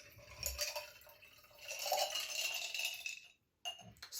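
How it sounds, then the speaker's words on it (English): Lightweight expanded clay (Leca) balls poured into empty glassware for a tabletop plant display, a close, soft rattling clatter in two bursts separated by a brief pause, with a final clink at the end. "you can take your empty glassware and pour these Leca balls into it."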